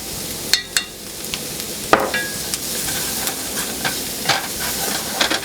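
Turmeric stirred into a pan of sizzling Moroccan meatballs: a steady frying hiss with irregular sharp spoon scrapes and clinks against the pan.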